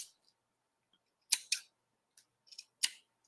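Scissors snip off extra yarn in a quiet room, a handful of crisp close cuts in two small clusters with silence between them.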